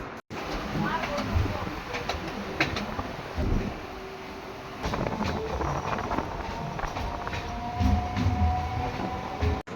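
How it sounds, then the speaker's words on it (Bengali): A local passenger train running from Sealdah toward Namkhana rumbles along steadily with wheel clatter and occasional squeals heard from inside the carriage, while passengers talk faintly in the background. "পর আমাদের ট্রেন শিয়ালদা থেকে ছেড়ে দিল নামখানার দিকে"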